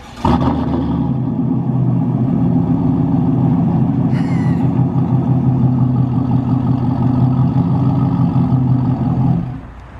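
A 2020 Chevy Silverado 6.2 with Kooks 1 7/8 headers runs nearby with a loud, deep exhaust. The rumble stays steady and heavy for about nine seconds, with a brief high chirp midway, then stops abruptly.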